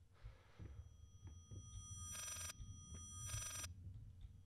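Two loud, shrill rings from a telephone in the horror game Layers of Fear, each under half a second and spaced about a second apart, over a low droning background.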